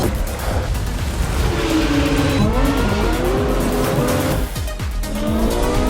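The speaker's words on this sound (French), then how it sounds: "il commence à accélérer dans les tunnels et tout" A Ferrari accelerating through tunnels, its engine note climbing and sweeping in pitch, loud and close with echoing reverberation and a touch of tire squeal, no voices.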